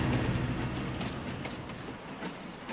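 A train running in Farming Simulator 22 gives a steady rolling rumble with a faint clickety-clack of wheels, continuous and fairly close, with no talk.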